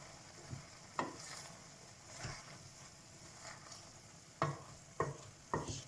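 A spoon stirring broad bean curry in a pan makes faint, scattered scraping strokes with a soft sizzle underneath, a few sharper scrapes toward the end.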